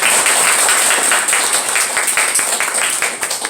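A church congregation applauds two newly installed deacon and elder members, a dense, steady wash of many hands clapping at close range for several seconds without a break.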